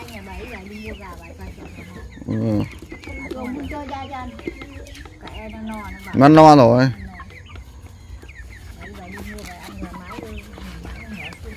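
Chickens, including hens, cluck close by, with a couple of louder squawks standing out, while people talk in the background.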